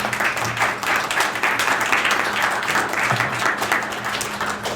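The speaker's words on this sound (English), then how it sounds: "Let's give it a round of applause" Loud, steady applause from a live audience at a tabletop game show, continuous dense clapping close up that holds at an even level throughout.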